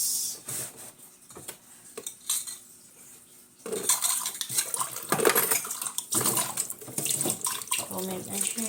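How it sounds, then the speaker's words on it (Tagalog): Dishes and cutlery washed at a home sink under a running tap, with clinking plates and utensils over steady water flow, quieter at first and then louder, busier splashing and clatter close by. "Hugas muna ako ng pinggan."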